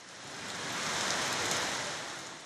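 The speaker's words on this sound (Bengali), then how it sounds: "দুপুরের পরে ঢাকায় নামে স্বস্তির বৃষ্টি" Steady, even rain pours down on a Dhaka city afternoon after days of intense heat, a dense hiss that swells slightly in the middle and fades again, with no voices.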